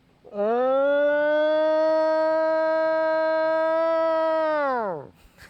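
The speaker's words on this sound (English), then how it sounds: "Other times you hear the long, sort of mournful howls" A single long, steady howl like a siren, rising at the start, holding level for several seconds, then sliding down and fading.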